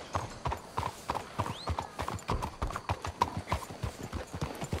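Horse hooves clip-clop steadily in Red Dead Redemption 2, a busy run of close, repeated strikes filling the whole stretch, with a brief whinny-like rise partway through.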